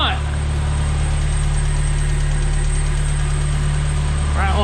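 Loud, steady low rumble of an engine idling at just over 1,000 RPM after throttle body work, continuous and close with an even hum throughout.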